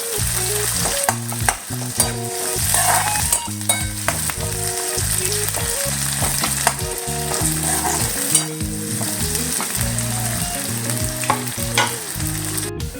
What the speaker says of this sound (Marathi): कांद्याला छान असा गोल्डन ब्राऊन होईपर्यंत परतून घ्यायचं आहे आपल्याला तेलामध्ये